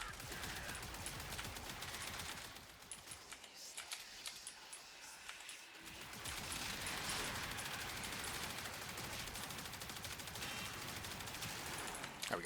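Rapid automatic gunfire from the Athodai primary fire in the game Warframe, dense sustained bursts with a brief lull midway, then continuous firing again, with faint game effects underneath.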